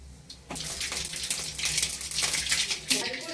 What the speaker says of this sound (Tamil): எண்ணெய் நல்லா காஞ்சிச்சு, நம்ம இப்போ கடுகு போட்டுக்கலாம்.